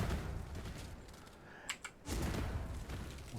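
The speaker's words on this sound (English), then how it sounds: "So you get an explosion there and here," Skill projectiles in a video game bursting against walls and targets, a few muffled booms with a brief pause and a pair of sharp crackles in between, no talk.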